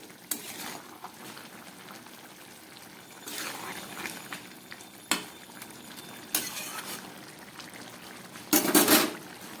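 Dried loitta fish curry simmering in a pot, giving a soft, steady bubbling and sizzling with a few louder bursts of spluttering and clinks, no voices.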